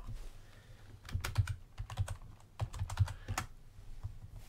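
Fingers tap out a burst of irregular keystrokes on a computer keyboard, clicking close and fairly soft. The rhythm is uneven, with quick clusters and short pauses, and no one speaks.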